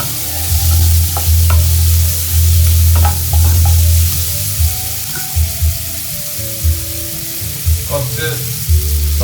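Garlic and onions sizzle loudly in hot butter for homemade pasta, a close, dense frying hiss over a low hum, with intermittent scrapes and taps of a spoon stirring the pan.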